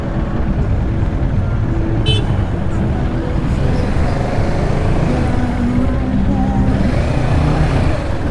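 A 2019 Kawasaki Ninja 650 being ridden and lane splitting through traffic, with steady loud engine and wind roar, surrounding road noise and a brief horn-like toot partway through.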